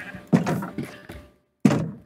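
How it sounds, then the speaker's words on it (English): Sheep in a Minecraft-style game bleating in two short, fairly loud bursts with a gap of quiet between them, plus a softer call in the middle. "I'm gonna kill the sheep"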